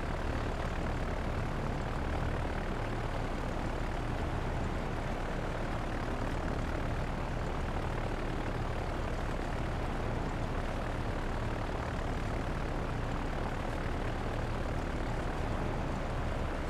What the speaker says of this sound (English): Love these dive bombers. They're so much better than the torpedo planes